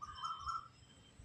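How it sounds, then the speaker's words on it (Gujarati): An Asian koel calls from a peepal tree in a village in the early evening, giving a single faint, distant whistled note over quiet background. "કોયલ બોયલ મસ્ત એવો અવાજ કોયલનો આવે ને તમને બતાવું પગ."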